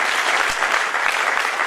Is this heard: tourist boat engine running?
no